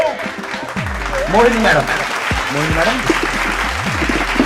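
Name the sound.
loud applause for participants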